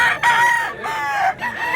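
A rooster crows at a poultry market in Mantalungon, Cebu, its harmonic call rising and falling twice in close succession, loud and near against the crowd murmur.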